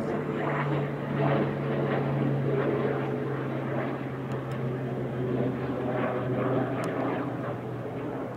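A twin-engine turboprop airplane with front-mounted propellers passes overhead in a garden setting, its steady low propeller drone holding throughout at moderate loudness without talk.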